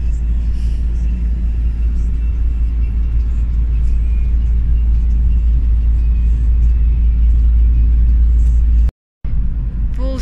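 Inside the cab of a 20-ton truck driving out of town, a loud, steady low engine rumble and road drone runs throughout, with a brief dropout near the end.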